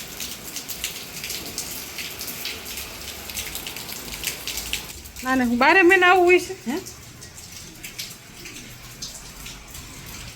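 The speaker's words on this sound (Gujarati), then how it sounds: "આમ જો વરસાદ ચાલુ થઈ ગયો કમોસમી" Unseasonal rain falls with a steady, close patter across the whole stretch, while a person speaks briefly in the middle.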